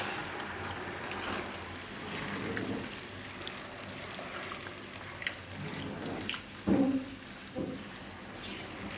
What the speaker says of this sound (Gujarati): એમાં આપણે 2 કપ પાણી નાખીશું